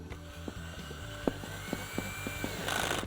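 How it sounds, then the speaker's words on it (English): The clutch of a cordless drill slips while it tightens a hex fastener on a table leg, giving a run of regular ratcheting clicks a few times a second over the motor's whir. It is close and clear, ending in a brief louder burst. "Hear that slip? That's what you want to hear."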